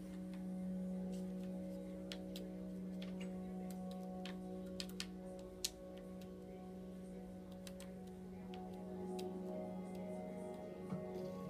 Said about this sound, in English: you might hear my controller clicking.